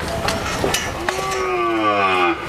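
A young Sahiwal–Brahman cross heifer calf at a cattle sale gives one long, loud, close moo that rises and then trails off, with a few clanks and shuffles around it.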